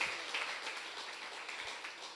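A church congregation claps together in a continuous, dense patter that sounds somewhat distant and fairly quiet, with no gaps over the short stretch.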